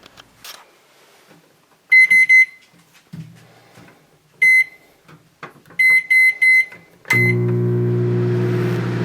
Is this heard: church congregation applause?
no